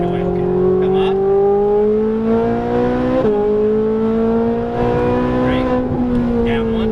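Ferrari 458 Italia V8 on a racetrack straightaway, engine note climbing steadily through the revs with a brief shift blip midway, then continuing to rise, loud and close from inside the car.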